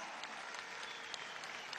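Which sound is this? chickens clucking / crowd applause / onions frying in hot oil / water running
crowd applause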